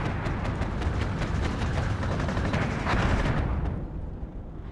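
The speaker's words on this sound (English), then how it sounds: "Again, using those mortars to good effect. Lots of artillery firing across the map." Artillery and mortar fire rumble across the map in the WARNO wartime strategy game as a dense, continuous barrage of overlapping booms and sharp cracks. It holds steady and loud, then thins out near the end.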